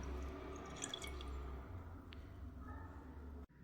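Water and unboiled milk are poured into a cooking pot for sweet pongal, giving soft dripping and liquid splashes in a quiet kitchen, ending in a sharp click.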